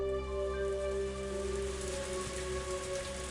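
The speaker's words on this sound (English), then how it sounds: "a torrential downpour started, as though trying not to disappoint him" Heavy rain from the Higurashi game pours down steadily in a sudden torrential downpour, a dense continuous hiss of water with a low tonal hum beneath and no voices.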